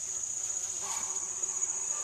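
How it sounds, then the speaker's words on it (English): Faint bee buzzing hums steadily close by around a squash plant in the morning, a thin, continuous drone over quiet outdoor air. "The bees are busy on it this morning."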